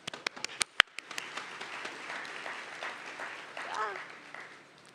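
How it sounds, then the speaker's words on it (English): A few sharp claps start off, then steady applause from a crowd at a secondary school graduation ceremony swells and carries on, with voices faintly audible underneath. "let us give them a round of applause"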